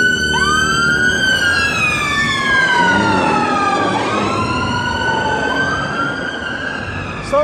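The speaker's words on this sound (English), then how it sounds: "Where are these sirens, man?" Emergency vehicle sirens wail loud and close, several overlapping tones sweeping up and down continuously, with a pitch drop midway as they pass, over steady traffic rumble.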